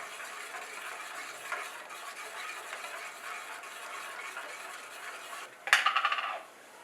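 A spoon stirs peanut and buttermilk kadhi in a pot, giving a faint steady scraping hiss, then a short burst of quick metallic clinks near the end.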